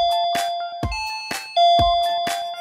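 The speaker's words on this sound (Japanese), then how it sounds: "もう一度ピンポン押してみよっと。" Two-tone ding-dong doorbell chime rung repeatedly at a house door in a Healin' Good PreCure toy play scene, bright and clear, four strikes in a steady rhythm with no talking.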